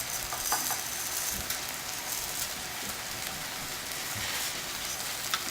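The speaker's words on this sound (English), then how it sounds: "what I'm doing right now is just toasting this rice and getting it coated in the oil" Brown rice sizzles and crackles steadily as it toasts in hot oil in a pan, a soft, even frying hiss with occasional stir clicks and no talking.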